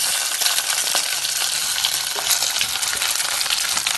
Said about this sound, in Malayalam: കടുക് പൊട്ടിക്കഴിയുമ്പം കായ് മുറിച്ചത് ഇതിലേക്കിട്ട്